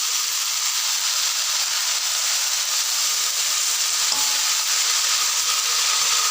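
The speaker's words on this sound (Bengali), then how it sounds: "এটাকে এবার ভালোভাবে কষিয়ে মিশিয়ে দিতে হবে, সবগুলো একসঙ্গে মিশিয়ে দিতে হবে।" Red amaranth greens with potato and eggplant fry steadily in a pan, a continuous loud sizzle and hiss with occasional stirring scrapes throughout, no voices.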